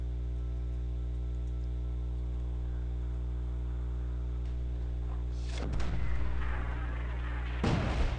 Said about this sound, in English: looks like that Mortar Dwarf for, whose was it? It was General X's Mortar Dwarf got taken out